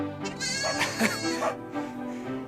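Sheep and newborn lambs bleat close by, several wavering overlapping calls following one another in quick succession over a few seconds.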